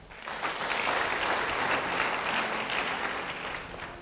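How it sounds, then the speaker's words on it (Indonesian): A church congregation applauds during a sermon, the clapping swelling quickly into a full, even roar of many hands that eases off slightly toward the end. "Yang setuju beri tepuk tangan"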